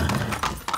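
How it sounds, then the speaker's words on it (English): Horse hooves clip-clop in quick, loud irregular beats alongside a brief whinny in the Far Cry video game, close and clear with no talking over them. "That's a horse and some paint."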